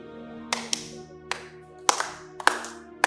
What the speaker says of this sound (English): Oh, clap.